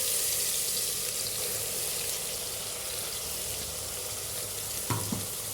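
Ground onion and coconut paste hits hot sesame oil for a goat bone soup, giving a steady, dense frying hiss throughout, with a couple of brief clinks near the end.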